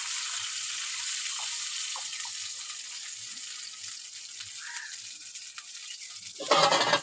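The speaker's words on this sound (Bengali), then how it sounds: "এবার আমি পরিমাণ মতো জল দিয়ে দেবো।" A pan of banana curry hisses steadily as it cooks, then water poured in at the end brings a brief, louder splash and surge of sizzle. No voices.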